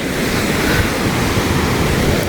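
Ocean waves on the sea near Dondra Head in Matara, a continuous loud wash of surf with wind noise on the microphone, no voices.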